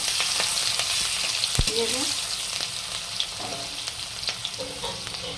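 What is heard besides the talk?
chopped onion and green chilli frying while stirred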